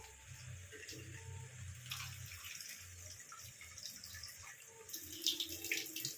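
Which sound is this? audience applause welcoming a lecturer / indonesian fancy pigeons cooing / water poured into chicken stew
water poured into chicken stew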